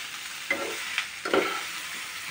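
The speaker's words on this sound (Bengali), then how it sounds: "দিয়ে লঙ্কাটা দিয়ে এবারে এটা আরেকবার ফ্রাই করা হচ্ছে।" Mushroom, onion and green chili fry in a pan, a soft steady sizzle broken by a few brief clinks and scrapes of stirring, close and fairly quiet with no talking.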